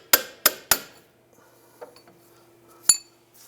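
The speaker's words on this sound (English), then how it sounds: "I'm using a hammer and work that off." Three sharp metallic hammer taps in quick succession on a steering rack bellow clamp of a 2001-2007 Ford Escape, then a pause and one more ringing strike, close and loud with faint clinks between.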